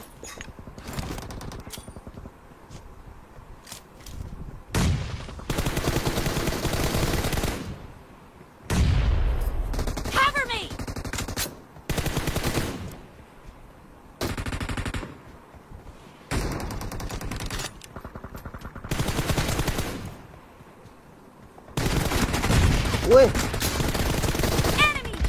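Video game gunfire comes in repeated loud bursts of rapid automatic shots, each lasting a second or two and separated by brief quiet gaps, with some voices in the background.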